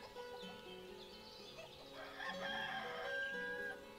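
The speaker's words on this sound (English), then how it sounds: "Oh, we do have a rooster." A rooster crows in the farming city-builder game Ostriv: one drawn-out cock-a-doodle-doo that swells toward the end, with soft clucking fowl and faint game ambience underneath and no talking.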